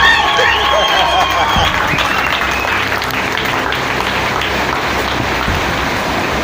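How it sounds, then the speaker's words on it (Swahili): A church congregation in Morogoro bursts into steady, loud applause. High wavering ululation rises over the clapping at the start, and crowd voices fill the background. "Tumpe Yesu makofi na vigelegele."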